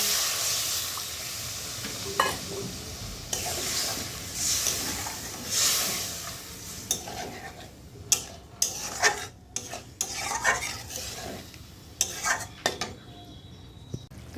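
Egg and potato curry (dim aloo kosha) sizzling in a pan after water is poured in, with loud hissing at first that fades into scattered clinks and scraping of a spoon against the pot, no talking.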